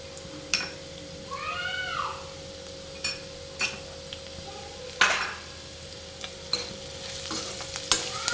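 Poha with turmeric and salt is stirred in a hot pan, a low sizzle with repeated scraping and tapping of a spoon, while a cat meows nearby.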